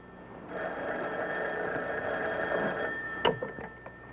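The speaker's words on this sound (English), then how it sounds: "Ozzie, answer the phone." A telephone bell in a 1957 episode of The Adventures of Ozzie and Harriet rings in one continuous burst for about three seconds, followed by a short clatter.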